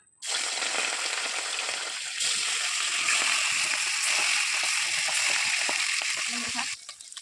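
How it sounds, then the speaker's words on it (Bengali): Pieces of catla fish dropped into hot white oil set off a sudden loud hiss that swells further as more pieces go in, staying as a steady, close, crackling fry until it drops away near the end. "তেল গরম হয়ে গেছে এবার এক করে আমি কিন্তু মাছগুলো দিয়ে দেবো"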